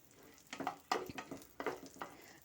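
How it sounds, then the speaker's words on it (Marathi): Semolina roasting in ghee in a pan for rava laddoos, quiet scraping stirs and faint sizzling in a few uneven strokes, close and soft. "तर आता हे एक मिनिटभर आपल्याला चांगले भाजून घ्यायचे आहे"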